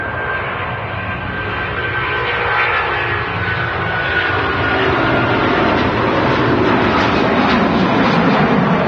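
A Boeing 737 MAX 8 jet at an airport, its engines producing a steady, loud roar that builds gradually over several seconds as the aircraft passes close by, with no talk.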